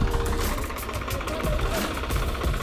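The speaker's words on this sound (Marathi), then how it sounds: "सरळ जाते ट्रॅक्टर आता नालीमध्ये" A Swaraj 855 FE tractor engine runs loud and close with a rough, knocking diesel chug while the tractor drives into a ditch, with a voice talking over it.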